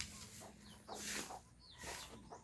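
Native hens cluck softly and irregularly around an egg-laying nest on a small farm, a faint close-by murmur of short clucks with a low background hum.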